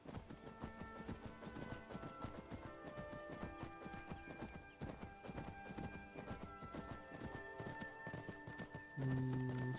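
Horse hooves clip-clop in a continuous rapid rhythm as a horse moves through the Skyrim video game, with a brief whinny or tonal cry near the end over quiet game ambience.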